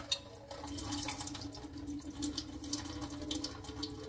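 Water drains steadily from soaked semolina in a home kitchen, a soft continuous trickle and patter at low volume with faint dripping, no voices.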